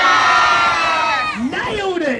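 A crowd of children and adults yells loudly and continuously as a sheep is coaxed into dancing, the broad shout rising and then breaking into scattered whoops and cheers near the end.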